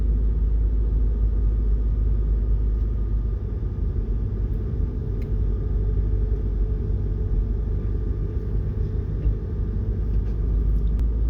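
First-generation Honda Odyssey RA1 minivan rolling slowly down the road, a steady low engine rumble with road hum from inside the cabin, continuous and even, with no voices.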